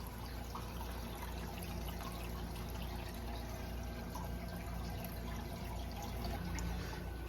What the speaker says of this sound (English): So I just started to fill my tank with the water. I am using my tube that I have, and it's hooked up to my bathroom sink